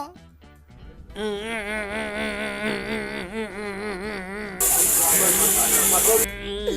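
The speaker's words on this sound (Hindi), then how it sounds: "भैया दाल में सीटी आ गई, कर रही है फुर फुर फुर फुर" A loud, sustained hiss of steam bursts out, sharp and close, over a tonal voice-like drone and background noise.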